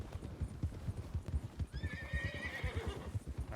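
Horse hooves of a rider approaching in a Red Dead western roleplay video game, a steady rhythmic clip-clop close by with a horse's whinny rising partway through.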